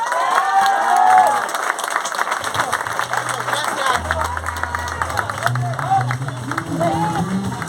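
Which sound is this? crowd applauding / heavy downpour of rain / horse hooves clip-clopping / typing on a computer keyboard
crowd applauding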